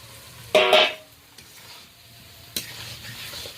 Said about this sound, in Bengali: আলু চিংড়ি মাছ মশলার সাথে আরো 2 মিনিট ধরে ভালো করে কষিয়ে নেব।